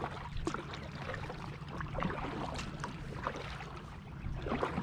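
A Lifetime Teton 100 Angler kayak is paddled through shallow water, giving faint, soft paddle splashes and water swishes over a low steady background rumble.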